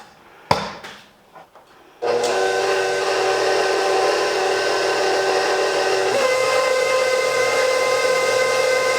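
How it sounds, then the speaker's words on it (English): A stand mixer kneads sourdough dough for a boule, switching on after a few brief knocks and then running as a loud, steady motor whine with a slight pitch drop partway through, with no talking. "So we'll go ahead and we'll pop this in our stand mixer"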